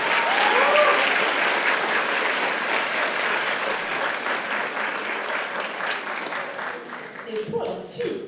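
Applause from the audience at a cosplay award ceremony and costume parade at Japan Impact 2018, steady clapping that gradually tapers, with a voice speaking near the end.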